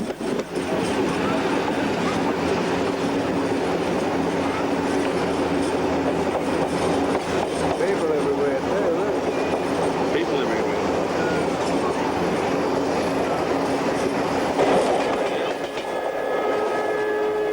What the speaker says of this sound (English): Hold your hat, that was the Indian Pacific train.